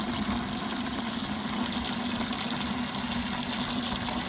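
Antifreeze concentrate pours steadily into the radiator of a 1954 Case SC tractor, a continuous gushing, filling wash of liquid that stays close and even throughout with no talk over it.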